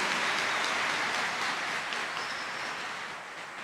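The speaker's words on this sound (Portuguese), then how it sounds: "Vamos acolher nosso bispo com a salva de palmas" Applause greeting a bishop at a Catholic gathering, a dense, even wash of clapping from a large crowd that holds steady and slowly fades toward the end.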